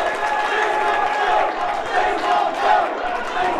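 A pro wrestling crowd in an arena cheering and roaring in a sustained, loud wash of voices, with no single speaker standing out.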